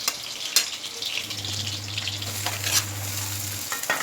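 Chillies, onion and curry leaves sauté in a pan, a steady close sizzle broken by several sharp utensil scrapes and taps, with a low hum running underneath for a couple of seconds and no one speaking.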